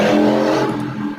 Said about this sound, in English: That was yours? Motorcycle?